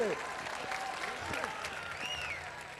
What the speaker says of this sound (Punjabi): ਦਰਸ਼ਕੋ ਜ਼ੋਰਦਾਰ ਤਾੜੀ ਮਾਰਦਾ ਕਰੋ